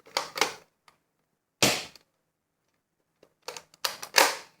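Pistol shots fired one at a time, sharp cracks in uneven bursts: a few close together, then a lone bang, then a quicker cluster of four or so, each loud and close with silence between.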